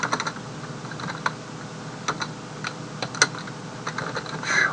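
Typing on a computer keyboard while building a financial model in a spreadsheet: irregular clusters of crisp, close key taps with short pauses between bursts, no voices.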